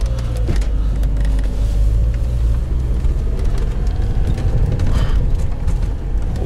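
Lada Niva 4x4 pushing through deep snow, its engine droning loud and steady with constant low rumble and crunching, close up and continuous without speech.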